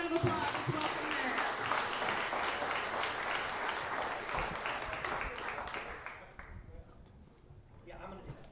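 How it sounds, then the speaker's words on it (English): Audience applause welcoming a speaker at a One Million Cups gathering in Charleston, dense steady clapping that fades out near the end, with some voices underneath. "Let's give her a big round of applause."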